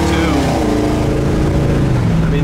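A 1955 Chevy Bel Air engine revving close up, a loud steady throaty roar with pitch sliding down then holding, no talk over it.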